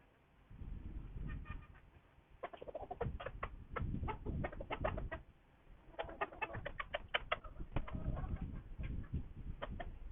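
Chickens cluck and chatter in quick repeated bursts on a rooftop, close by, over a steady background hiss with brief pauses between flurries.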